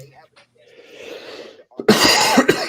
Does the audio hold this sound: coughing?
yes